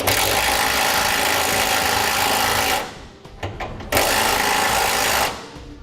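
A loud, whining power tool tightening a lock nut on a bolt during a fifth wheel trailer hitch installation on a 2010 Chevrolet Silverado runs steadily, cuts out briefly with a few metallic clicks, then spins up again before stopping.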